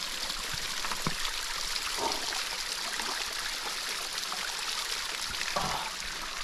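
Fresh mountain stream water trickles and splashes steadily along a rainy trail between Rainy Pass and Cutthroat Pass in the North Cascades, a continuous close, wet babble with a few brief louder gurgles and no voices.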